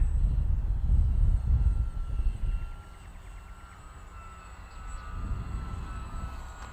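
Dynam P-51D Mustang V2 RC model plane flying in gusty wind, its engine drone loudest at first, fading as it passes farther away, then swelling again toward the end.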